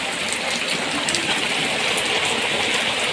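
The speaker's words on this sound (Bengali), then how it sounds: "প্রচুর বৃষ্টি হচ্ছে।" Heavy monsoon rain pours outside in a dense, unbroken hiss that stays loud and even throughout.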